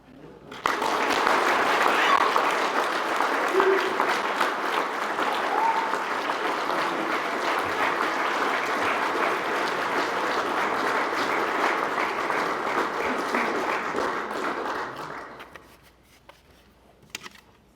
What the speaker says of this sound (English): let us first have a well-earned round of applause